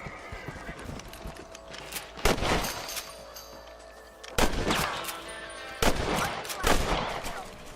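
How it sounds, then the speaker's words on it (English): Rifle shots at rabbits in Red Dead Redemption: three sharp, loud cracks spaced a couple of seconds apart over quiet outdoor ambience, with faint horse hoof clops underneath. "You're better at shooting rabbits than outlaws"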